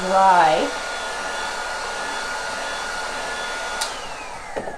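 Hair dryer blowing on Terra Clay paint on a washstand: a steady, close whirring airflow runs the whole time after a brief louder burst and pitch sweep at the start, with a few small knocks near the end.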